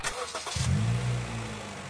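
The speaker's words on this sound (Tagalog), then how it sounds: "pa-start mo muna itong makina" A Honda Jazz engine cranks briefly with a few quick starter bursts, then fires and settles into a steady, close idle with a slight rev as it catches.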